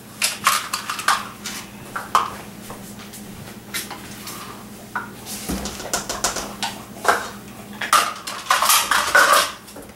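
Bread dough ingredients and oil being stirred in a mixing bowl, with repeated clinks and scrapes of a utensil against the bowl in an uneven rhythm, close and fairly loud, with no talking.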